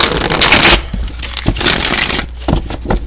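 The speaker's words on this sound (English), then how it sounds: "Let me give it one more shuffle here" Tarot cards shuffled by hand during a reading, a dense papery riffle and rustle up close, loudest in an opening burst, then softer scattered flicks and taps.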